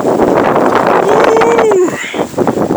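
Strong blizzard wind roars close to the microphone as a loud, steady broadband rush that eases and gusts unevenly toward the end.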